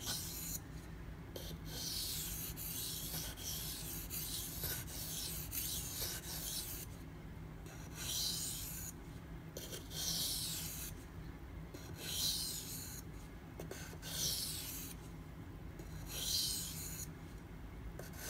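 Knife blade, a Spyderco Manix 2, drawn in light finishing passes across a sharpening stone to break off the burr; steady rhythmic rasping strokes, close and moderately quiet, repeating evenly with brief pauses between passes.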